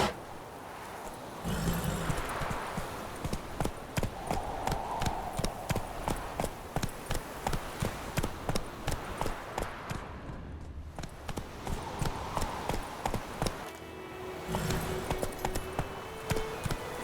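Steady, evenly spaced clip-clopping from Roach trotting in The Witcher 3, close and continuous over a soft wind-like background, the hoofbeats keeping a regular rhythm throughout.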